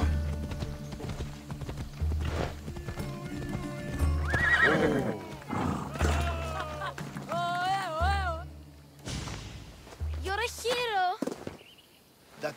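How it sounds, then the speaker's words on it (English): Horse in Assassin's Creed Odyssey, hooves clip-clopping at a steady pace with two loud, clear whinnies in the second half, game music and ambience underneath and a voice talking briefly. "I need my horse."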